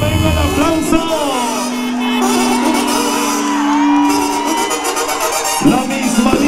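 Crowd at a jaripeo rodeo fiesta in a village, cheering, whooping and shouting loudly in a steady wash of voices, with a long sustained shout rising above the noise.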